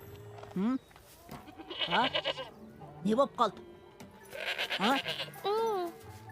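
Goats bleat loudly several times in wavering, quavering cries, close by, with a brief spoken question mixed in among the calls.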